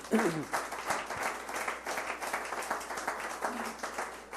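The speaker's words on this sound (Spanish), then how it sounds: "Dele un aplauso al Señor." A crowd applauds steadily, dense clapping filling the whole stretch at moderate volume, with a few faint voices mixed in.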